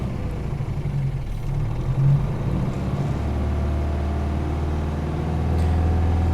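Detroit 8v92 diesel engine in a Peterbilt 359 truck holding a steady, deep low rumble with the pedal floored, a slight swell near the end, no talk over it.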